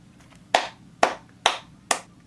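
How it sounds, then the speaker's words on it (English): Four sharp, separate hand claps spaced roughly half a second apart, each crisp and close with a quick decay, over quiet room tone. "I don't know how else to put it besides just clapping"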